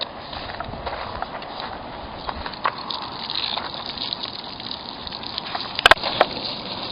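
Water gushes from an AquaDam water anchor tube on a hurricane roof tarp, a steady rushing broadband flow held at even level throughout, with a couple of brief sharp clicks near the end.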